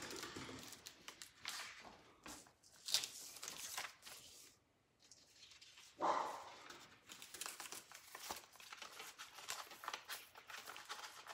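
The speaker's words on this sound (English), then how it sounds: "the dogs are just having a fit about it" Household dogs barking indoors in reaction to someone going upstairs: faint, distant-sounding barks in a few separate bursts, with rustling between them and no clear speech.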